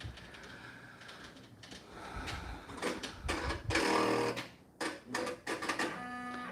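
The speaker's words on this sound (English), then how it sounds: "let's start the sewing" A sewing machine stitches fabric for an Easter bunny lovey baby comforter, running in short uneven whirring bursts with brief pauses between them, fairly quiet and close.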